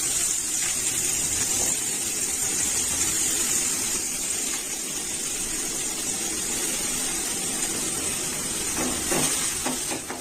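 Chopped onions and chillies sauté in a pan, a steady close hiss of frying that continues for the whole stretch, with a few faint clicks near the end.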